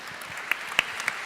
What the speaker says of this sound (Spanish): Le damos un aplauso a nuestra ponente.